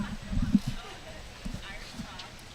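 A Thoroughbred horse walks over logs on a competitive trail course. Soft, dull hoof thuds come in a cluster and then in a few spaced steps, under a commentator's steady talk.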